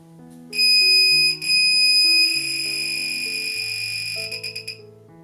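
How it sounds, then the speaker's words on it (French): A solar-powered lightning detector, running around the clock off a 5-volt solar kit, gives out loud electronic beeping tones that shift in pitch and overlap, ending in a few quick stuttering pulses, with no one talking. "maintenant, j'ai branché mon capteur de foudre ou détecteur de fantômes"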